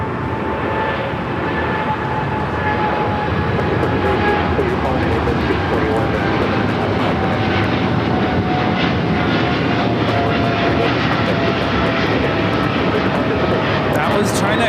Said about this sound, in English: That was China Airlines Cargo 5153 taking off to Tokyo Narita on the 777 freighter.